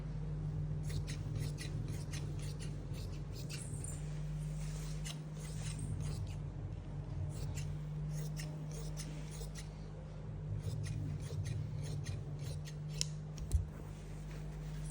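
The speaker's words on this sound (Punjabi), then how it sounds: "ਇਹ ਦਾ ਆਪਾਂ ਇਹਦੀ ਲਾਈਨਿੰਗ ਕੱਟ ਕਰਤੀ" Scissors snip through umbrella frock lining fabric in a long series of quick, crisp cuts, close and fairly faint, with a low steady hum underneath.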